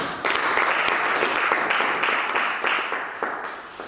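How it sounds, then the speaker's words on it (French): A church congregation applauds during a French sermon, a dense, steady wash of clapping that rises quickly and carries on loud for the whole stretch with no voice over it. "Acclame Jésus, acclame."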